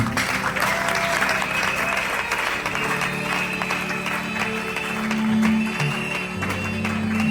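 A church congregation at a pastors' ordination service applauds in a dense, loud, sustained wash of clapping that continues for the whole stretch.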